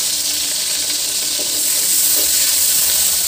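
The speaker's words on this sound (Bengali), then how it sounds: "সেম তেলে দেখো আমি পেঁয়াজ আর একটুখানি 1-2 টুকরো রসুন রাখছিলাম, এটা দিয়ে দিলাম।" Onions and a couple of garlic pieces fry in reused oil, a bright, constant sizzle with faint stirring clicks throughout.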